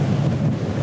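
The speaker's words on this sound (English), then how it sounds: "So, a little windy here, as you can see, or hear probably" Steady, loud wind buffeting the microphone on a gusty day in the Swiss mountains, a continuous low roar with no voices.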